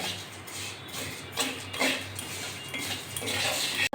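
Flattened rice (chira) fries in a pan while a utensil keeps stirring and scraping it, giving steady close rustling and metallic scrapes with no talk.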